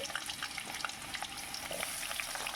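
Potatoes sizzle in hot mustard oil in a kadai, with a steady bright crackle and scattered pops running close and continuous, with no talking.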